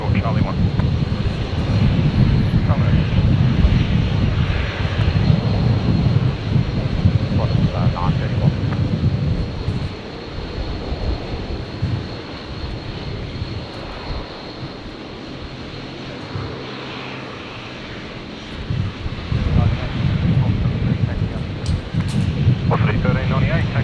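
Aircraft engine roar at Brisbane Airport, a loud sustained rumble that eases in the middle and swells again, with wind buffeting the microphone and voices heard under it.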